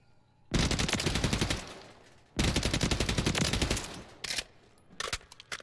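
Weapon fired on a Call of Duty firing range: two long sustained automatic bursts, loud and close, followed by a few short bursts.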